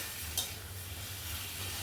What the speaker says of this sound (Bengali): দিয়ে নাড়িয়ে চাড়িয়ে ভালো করে কষিয়ে নিয়ে এবার ভেজে রাখা ডিম আর আলুটা দিয়ে দিলাম।